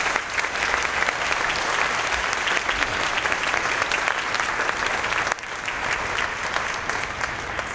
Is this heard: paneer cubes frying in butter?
no